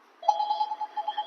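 A telephone rings with a single steady, warbling electronic tone lasting about a second, fairly quiet and heard alone.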